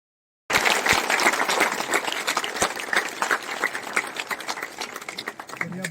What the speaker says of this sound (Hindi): जरा बढ़िया से ताली बजा के